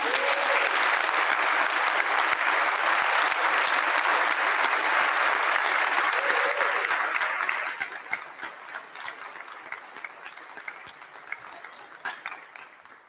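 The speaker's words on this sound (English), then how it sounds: "join me in giving a round of applause to Rachel Goodrich for pulling all of this together" Commencement audience applauding at length in a large gathering, dense steady clapping for about eight seconds before thinning into scattered claps as it dies away.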